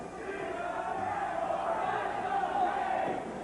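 A wrestling crowd at the watering hole cheers and roars in a steady, fairly loud wash of voices that holds throughout without breaks.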